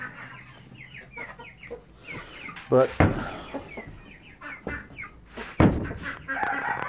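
Rare-breed chickens cluck busily inside a coop while a rooster crows loudly, with a few brief spoken words and scattered bird calls mixed in.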